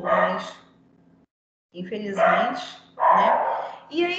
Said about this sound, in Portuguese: Desculpa o cachorro